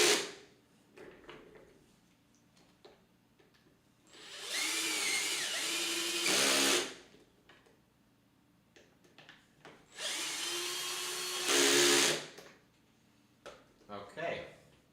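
Electric screwdriver driving screws while a PC is assembled, two strong whirring bursts of about two seconds each separated by quieter handling clicks and rustles.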